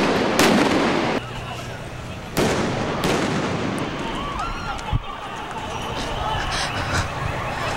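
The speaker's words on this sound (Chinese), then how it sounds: "而车上嫌犯突然开枪反击。" Gunfire as police tactical officers storm a hijacked tour bus and suspects shoot back, with several sharp loud reports and cracks over a dense, noisy outdoor scene as people talk throughout.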